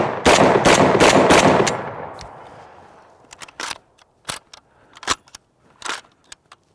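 Five rapid, loud booming shots from a Kalashnikov USA KS-12 semi-automatic shotgun fed by a DDI magazine ring out over an outdoor range and fade into a decaying echo, followed by scattered sharp clacks and rattles of handling.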